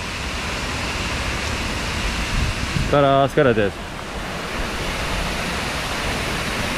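Steady, loud rush of a large waterfall in Thailand fills the clip, with a brief spoken phrase near the middle.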